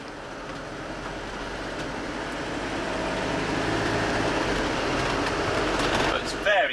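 A Carthago e-line chic S plus motorhome rolls along at just over 30 km/h in fifth gear at about 1,500 rpm, making a steady low drone with road and cabin rumble that grows slightly louder, with a voice talking over it.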